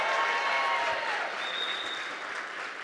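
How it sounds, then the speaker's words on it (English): A military conference audience at a keynote breaks into applause, with many hands clapping in a broad, steady wash that fades slightly toward the end, heard from a moderate distance. "So if you're a company grade officer, round of applause."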